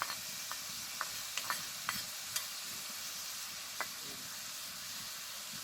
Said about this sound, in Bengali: তার সাথে দিয়ে দিচ্ছি পেঁয়াজ আর লঙ্কা, দিচ্ছি আদা আর রসুন বাটা